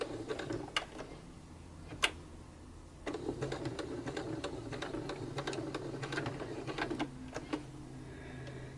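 A sewing machine stitches fabric to make fabric flowers, running in a few slow, steady bursts with a short pause after a single sharp click.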